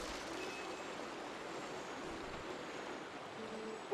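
A steady rush of river current in Zelda Twilight Princess HD, an even, continuous wash of flowing water that stays constant and moderately faint from start to finish.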